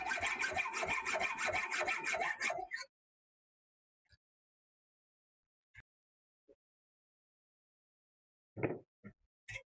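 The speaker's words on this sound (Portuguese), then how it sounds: "A gente vai colocar as duas na morsa e vai tentar fazer um corte com a serrinha." A small hand saw cuts a heat-treated steel sample held in a vise, giving a quick run of loud, rhythmic rasping strokes for under three seconds, followed by near silence and a few faint knocks.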